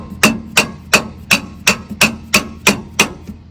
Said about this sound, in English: let me find something to tap that one out with. Be right back. Okay, I got my little hammer.